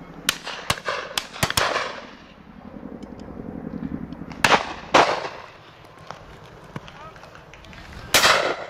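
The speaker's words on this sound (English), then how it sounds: "Go on, AK, well shot" Shotguns fire at a driven pheasant and partridge shoot. Sharp bangs come in quick pairs, then scattered single shots, some near and some farther off, over outdoor ambience with voices calling.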